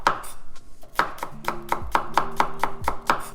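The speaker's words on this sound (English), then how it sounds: "I'm just going to cut up a green onion" A knife chops green onion on a cutting board in a run of crisp, evenly paced taps, close and clear with no talking.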